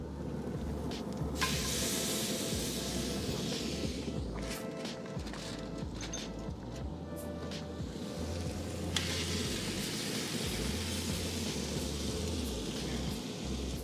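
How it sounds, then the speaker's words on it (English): Ribeye steaks searing on a Pit Boss pellet smoker give a steady, continuous sizzle at moderate level, with faint clinks and handling noises scattered through. "let's go ahead and get these steaks on."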